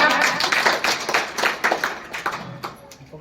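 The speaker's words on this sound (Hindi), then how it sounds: "बहुत जोरदार तालियां" A short burst of clapping from a group at a school results and farewell ceremony, steady patter of hands that thins out toward the end, with faint voices mixed in.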